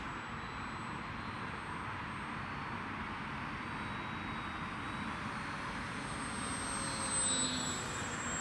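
A small RC model airplane propeller engine, an FMS Ranger 1220mm V2, drones steadily at a distance, its pitch wavering slightly as it passes, swelling a little louder near the end.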